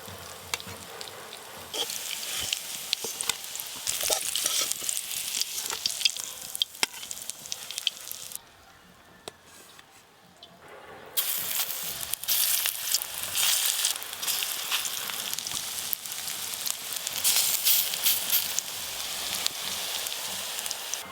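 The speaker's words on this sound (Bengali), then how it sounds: "এই বড়াগুলো ভাজা হয়ে গেল, তুলে নেব এবার।" Sizzling oil bubbles around drumstick flower fritters in a pan, a dense continuous crackle that drops away briefly midway before returning at full strength, with no talking.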